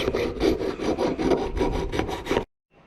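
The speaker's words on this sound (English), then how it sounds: "need to file this back part up properly, right up to the edge of it" A hand file rasps against the blade of a pair of garden cutters in roughly ten quick, rhythmic back-and-forth strokes, close and fairly loud, then stops abruptly, leaving a faint rustle.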